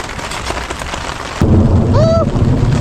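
A deep rumble of thunder rolls in abruptly and lingers, loud and close, over a steady hiss of rain.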